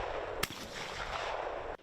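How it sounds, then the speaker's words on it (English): A shotgun fires at clay pigeons during outdoor trap shooting, one sharp distant crack followed by a second faint report near the end, over a steady wash of wind and ambient noise. "When athletes shoot clay pigeons released by a spring trap."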